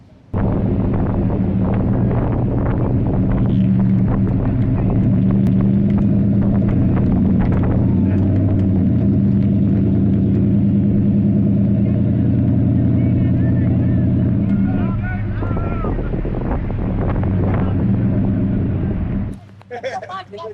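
A Ford F-150 pickup idles in drive at low throttle, creeping slowly while pulling a stuck Jeep free: a steady, loud low engine rumble with wind buffeting the microphone, then a drop-off near the end.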